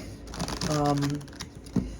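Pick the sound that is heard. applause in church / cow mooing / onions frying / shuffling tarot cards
shuffling tarot cards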